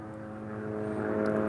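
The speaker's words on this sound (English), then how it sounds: "Here's another private chopper going up the valley." A private helicopter flies up a valley, heard as a steady, continuous engine and rotor drone that builds slightly louder over the moment, with no talk over it.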